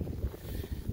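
Steady, blustery wind buffeting the microphone in low rumbling gusts, with no voices.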